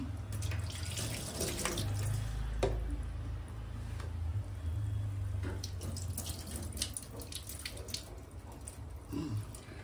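A tap runs steadily for several seconds, water splashing into a sink at close range, with occasional clinks and knocks, no speech.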